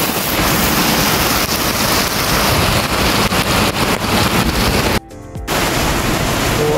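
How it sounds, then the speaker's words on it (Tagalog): Heavy rain pounds on a vehicle as a dense, loud, constant roar, broken by a brief half-second drop near the end before the downpour resumes. "Grabe itong ulan na ito naman."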